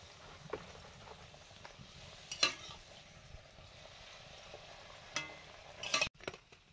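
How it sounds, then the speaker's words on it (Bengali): Luchi puffed flatbreads frying in oil, a faint soft sizzle in the background broken by occasional louder clinks and scrapes of a utensil. "লুচি ভাজা শুরু করেছি।"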